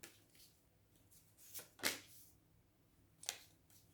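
Tarot cards are cut and shuffled in a quiet room, making soft papery riffles and a few sharp slaps and flicks scattered over a few seconds, faint and close with no voices.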